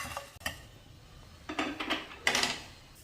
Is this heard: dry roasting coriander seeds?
yes